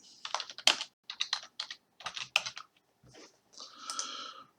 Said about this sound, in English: type in here whatever you want